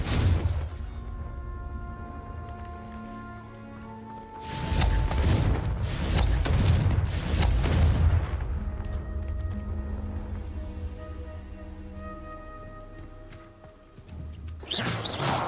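Confringo spell blasts from the Hogwarts Legacy video game erupt as a loud burst of booming explosions mid-clip, then subside into a lingering rumbling ambience before another blast hits near the end.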